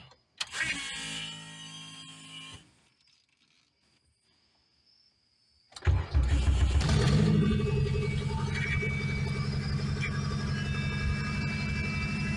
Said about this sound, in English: You can hear the alternator does scream.